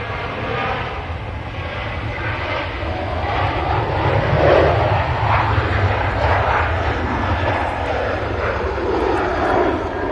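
An Airbus A380 passes overhead near Manchester Airport, a broad, steady jet roar that swells slightly through the middle and stays loud and continuous throughout.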